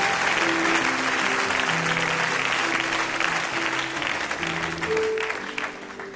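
Church congregation applauding and cheering at a revival worship service, a dense, loud, steady wash of clapping with voices and tones mixed in, sustained throughout.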